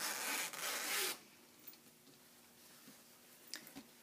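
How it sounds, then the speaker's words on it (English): A zipper on a sewn fabric bag rasps open in one quick pull lasting about a second, close and clear, followed by quiet fabric rustling. "Then open the zipper."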